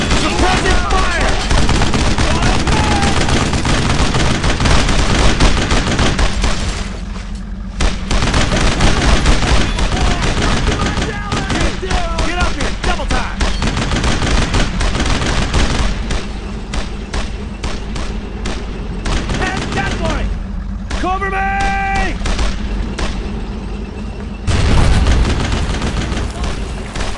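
Sustained automatic gunfire and heavy bursts from squad suppressive fire in the WWII shooter Brothers in Arms: Road to Hill 30, loud and continuous, with shouted voices breaking through the battle noise.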